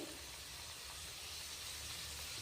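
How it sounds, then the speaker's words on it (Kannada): Karjikai pastries fry in hot oil over a low flame, producing a brief, steady and fairly faint sizzling hiss with no talking. "4 ರಿಂದ 5 ಹಾಕಿ ಕರಿದು ಬಿಡೋಣ. ಮಸ್ತ್ ಆಗ್ತಾವ ನೋಡ್ರಿ."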